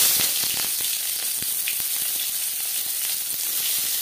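Chopped onion dropped into two spoons of hot oil for egg and potato bhujia, a continuous bright sizzle with scattered pops and crackles, close and steady, no voices.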